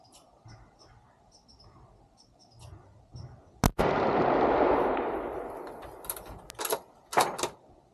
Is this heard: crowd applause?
no